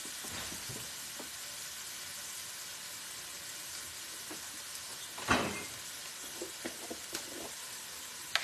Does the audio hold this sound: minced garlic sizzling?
yes